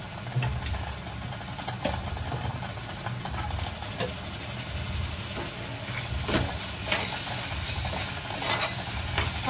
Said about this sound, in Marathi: आता हे छानपैकी परतवून घेऊया आणि तेल सुटेपर्यंत शिजवत ठेवायचं